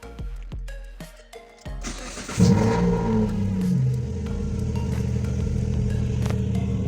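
A Proton Waja with a Campro CPS engine cranks after a few clicks, catches with a rising rev, then settles into a steady, close idle that carries on to the end.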